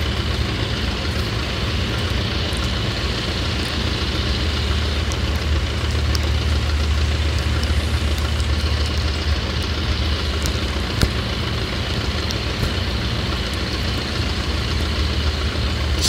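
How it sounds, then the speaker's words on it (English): A de Havilland Tiger Moth small plane engine idles in a steady, low, throbbing drone that stays even and close for the whole stretch, with no voices over it. "Small plane."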